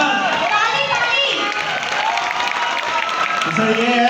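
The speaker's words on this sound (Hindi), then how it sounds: "जोरदार ताली के साथ। ताली ताली।" A crowd claps and cheers steadily at a ceremony event in a Patna hall, the applause dense and continuous throughout, with children's voices and some talk mixed underneath.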